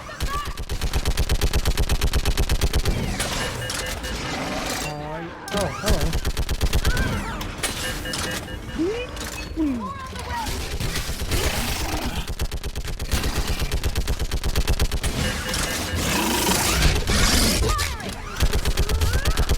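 Sustained rapid automatic fire from a mounted gun in Mass Effect 3 hammers almost without pause, loud and dense, briefly broken once, with game voices and combat effects mixed underneath.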